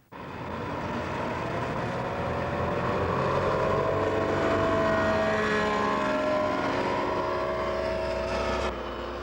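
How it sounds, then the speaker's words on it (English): Microlight aircraft flying low over a Nepal river valley, a loud steady engine drone with a rising and falling propeller whine that holds for about nine seconds and then cuts off. "Without any warning, the microlights are back."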